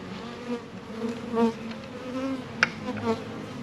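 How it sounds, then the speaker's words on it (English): Honey bees buzz at a styrofoam hive during a package install, a continuous close droning hum with the whine of individual bees rising and falling, plus a brief sharp click near the end. "Let me open up the front to let the bees out."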